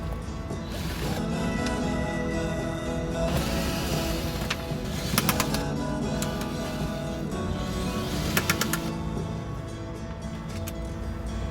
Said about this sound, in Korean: 그럼 이제 볼트를 풀어볼게요